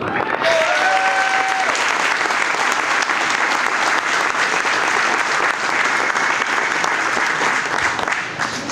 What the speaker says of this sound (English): So a big round of applause for Emily, please.